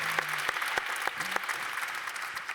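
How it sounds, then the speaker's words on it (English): Applause from a conference audience for the speakers at the end of a panel on digital environmental sustainability, moderate and continuous clapping with a few brief voices beneath it. "I think that Achim and Somya and Sally first would like to hear a loud applause from your side"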